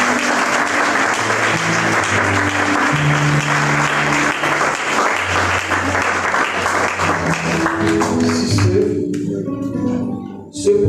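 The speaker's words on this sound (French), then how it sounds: "Si tu es d'accord avec moi, tu vas acclamer le Seigneur." A church congregation at an Easter service applauds and acclaims the Lord, with loud sustained clapping and cheering voices filling the room for about ten seconds before it fades.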